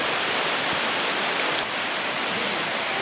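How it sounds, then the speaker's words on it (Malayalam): Heavy rain pours steadily at the zoological park in Thrissur, a dense, unbroken hiss that fills the whole stretch with no voices over it. "നല്ല മഴയാണ് കേട്ടോ."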